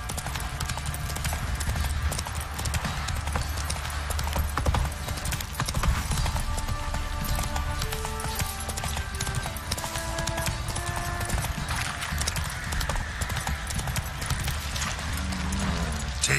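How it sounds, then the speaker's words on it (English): Horse hooves clip-clop in a steady walking rhythm in The Witcher 3, close and continuous over game music and ambience, with a brief whinny-like sound. "Time to water the horses."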